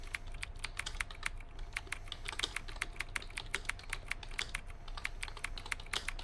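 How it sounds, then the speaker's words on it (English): Steady typing on a computer keyboard, fast irregular clicks running continuously at close range over a low background hum, with no voices. "Type into the console what you hear, and press enter when complete."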